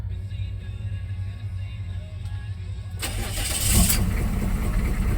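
A 454 truck engine cranks and fires up, settling into a loud, rough idle with a brief rev after it catches, heard close with nothing else over it.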